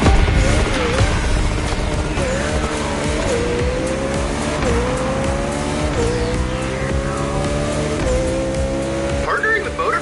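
A Koenigsegg Jesco in a video game, its engine note rising and falling through repeated gear shifts with tire squeal, loud and steady throughout, with a voice talking over it.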